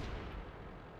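Tank gunfire in the World of Tanks video game, a heavy, booming low rumble filling the short moment, with no talking.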